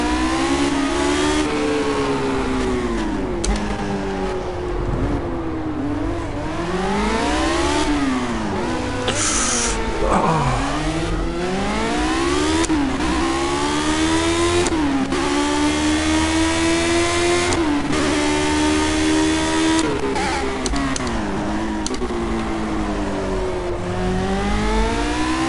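A race car in Project CARS, tyres warmed up, revs hard through repeated gear changes, its engine pitch climbing and dropping in a loud continuous whine for the whole stretch.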